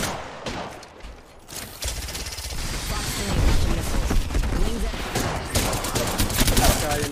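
Sustained rapid gunfire fills a ranked online shooter match, dense overlapping shots and impacts running continuously at close range, with some speech-like sounds mixed into the din.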